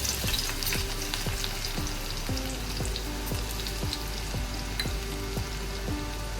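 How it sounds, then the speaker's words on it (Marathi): Garlic hits hot oil and crackles in a loud, continuous sizzle, punctuated by a regular series of spatula scrapes and taps against the pan, with nobody speaking. "आपलं तेल तापलेलं आहे त्यामध्ये आपण लसूण टाकणार आहोत"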